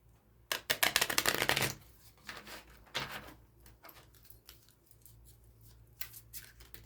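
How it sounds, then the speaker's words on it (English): A deck of Black Rose tarot cards is riffled in one loud, fluttering burst near the start, followed by softer slides and scattered card handling. "I should shuffle once."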